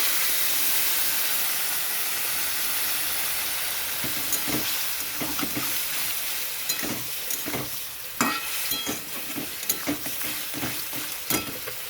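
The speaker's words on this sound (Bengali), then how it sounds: "এখানে একটু জল দিয়ে দিচ্ছি মশলাটা কষানোর জন্য" Spice paste frying in a pan for a red chickpea curry as water is poured in, giving a loud steady sizzle and hiss with sharp crackling bursts and stirring scrapes, close up with no talk.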